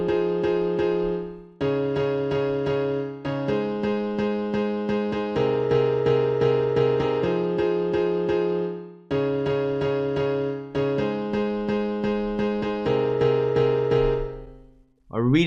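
Progressive house drop built as a synth chord progression over bass notes, with sustained, stacked harmonic chords changing every couple of seconds in a steady loud rhythm, briefly dipping before resuming, with no voices.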